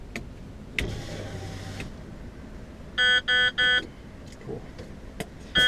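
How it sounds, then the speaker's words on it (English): Three short electronic beeps in quick succession, followed by a fourth, sounding over a low engine hum inside a heavy-haul truck cab. "Get ready for the beep."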